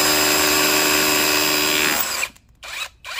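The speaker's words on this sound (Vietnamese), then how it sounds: "Khoan vèo vèo luôn." A Dekton RH-2603 cordless rotary hammer drills steadily at full speed for about two seconds, loud and close, then the bit stops and restarts in two short bursts with brief gaps between.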